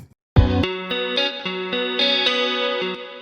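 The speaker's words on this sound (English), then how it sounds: "this washy reverb is actually modeled after a Big Sky" Electric guitar through a washy reverb modeled after a Big Sky, shimmer off, plays a clean, moderately loud line of repeated plucked notes with a lingering wet tail.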